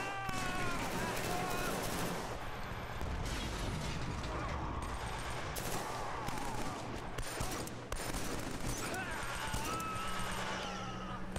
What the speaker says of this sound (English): Alright, now here's Killzone 3, assault rifle and pistol.